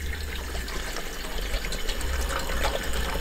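Water pours from a 16-ounce bottle into a cooking pot at a campsite, filling it for red beans and rice; a continuous splashing, gurgling stream runs steadily and close by without interruption.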